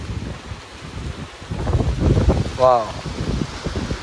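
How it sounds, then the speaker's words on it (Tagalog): Strong wind gusting at Campers Beach Resort in Sariaya, Quezon, rushing and buffeting the microphone in rising and falling swells while a person talks briefly. "Lakas ng hangin, guys."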